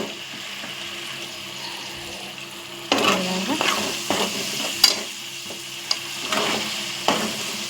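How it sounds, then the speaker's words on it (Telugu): Ginger sizzles steadily in hot oil in a pan for a Telugu-style potato chicken curry. A constant frying hiss runs throughout, with sharper stirring scrapes and clinks close by from about three seconds on, and no talking. "అల్లం నూనె ముందే వేగింది."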